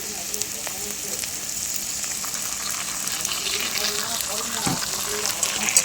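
Onions frying with tomato sauce over a high gas flame, giving a continuous crackling sizzle at close range, with occasional stirring scrapes and a soft knock near the end.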